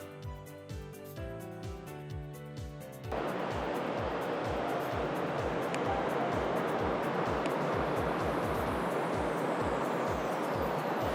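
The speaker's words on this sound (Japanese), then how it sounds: "今スラスターが波しぶきを上げてます" Thrusters of the new luxury ferry Sunflower Murasaki churn the sea as it slowly leaves Beppu port, a steady loud rushing wash that swells in after a quieter opening and holds under a rhythmic low thumping throb.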